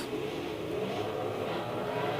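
A Lister Storm V12 race car engine in the Gran Turismo 4 video game, racing at Grand Valley Speedway, a steady dense engine roar held at high revs without pauses.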